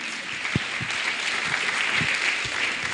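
Steady applause from a crowd at a scholarship ceremony, continuous and fairly loud, with a few low thuds scattered through the clapping.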